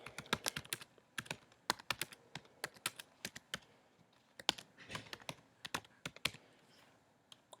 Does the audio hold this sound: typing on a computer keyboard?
yes